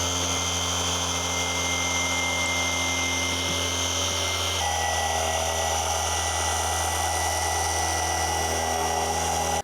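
A Rupes HLR75 Mini iBrid battery-powered polisher runs continuously with a high, steady electric whine and a hum beneath it, its pitch shifting slightly partway through, close and loud with no talking.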